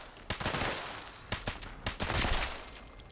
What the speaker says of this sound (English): try to shoot these guys without having to destroy the eggs